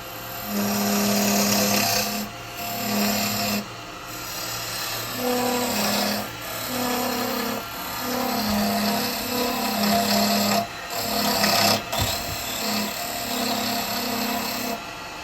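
A woodturning lathe cutting a tenon on the bottom of a wooden snowman gift box, a loud close scraping whine with rhythmic surges as the tool passes repeatedly, briefly easing off between cuts.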